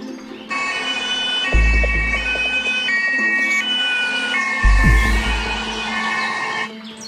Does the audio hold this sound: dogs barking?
no